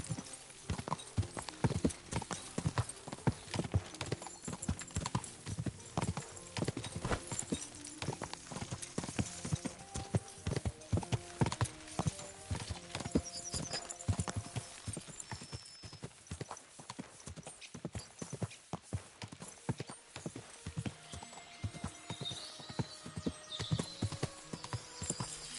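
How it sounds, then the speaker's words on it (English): Horse hooves clip-clop rhythmically through a long ride in the medieval video game Kingdom Come Deliverance 2, with tack jingling and occasional whinnies over a dense game soundscape. "that looks like a bloody expensive horse"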